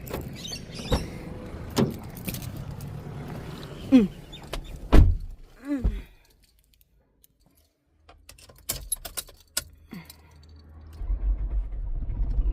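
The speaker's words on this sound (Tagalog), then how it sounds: "I-move na niya yung sasakyan." A car is moved by its driver, with clunks of doors and keys, a whirring electric window and handling noises, then a low engine rumble building near the end; a voice briefly murmurs.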